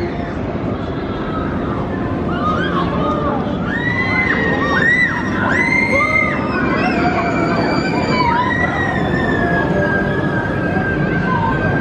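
The Flight of the Pterosaur suspended roller coaster at Paultons Park roars steadily past, loud and close, while riders' high screams rise and fall in overlapping bursts above the rumble.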